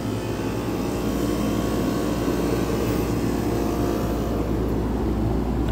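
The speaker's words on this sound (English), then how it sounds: "Supply fan motor down in there." Supply fan motor of a Trane Horizon DOAS unit running during startup, a steady, loud broadband whoosh and low rumble that holds constant throughout with no talk.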